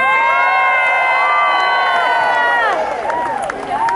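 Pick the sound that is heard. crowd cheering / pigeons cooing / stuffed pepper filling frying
crowd cheering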